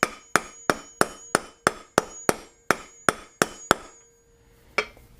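Hammer driving a new bearing in with a socket on a 1976 Honda MR175 Elsinore: eleven sharp, evenly spaced metallic blows ringing close up, a short pause, then one more strike.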